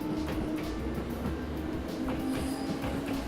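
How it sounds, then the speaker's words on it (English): The green Emerald Line train in the video game Trails of Cold Steel rumbles along steadily with a dense rolling clatter and a faint tonal hum, continuous and fairly close. "Ah, the beautiful green train! The Emerald Line!"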